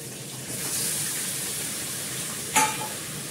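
Meat rubbed with salt and turmeric sizzles steadily in a hot pan with bay leaves, a continuous close frying hiss with a brief sharper spatter near the end.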